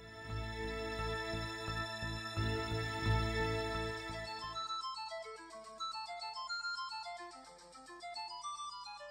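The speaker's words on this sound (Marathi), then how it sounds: "तुझा फोन वाजतोय." A mobile phone rings with a melodic electronic tune, steady at moderate volume, over a low hum in the first half that drops away, leaving the ringtone alone.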